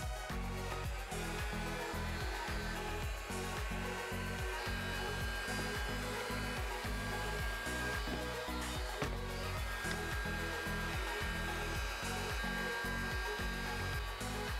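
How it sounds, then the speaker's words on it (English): A dryer blows over a cracked BMW G30 headlight during a lens replacement, a steady close whirring airflow with a constant motor hum that runs unbroken throughout, without anyone talking. "And now I will dry the headlight."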